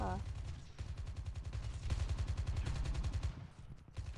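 Rapid automatic gunfire from a Call of Duty Mobile team deathmatch runs almost continuously in quick rhythmic bursts, dense and steady, with game effects layered over it.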